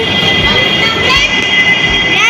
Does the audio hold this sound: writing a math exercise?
no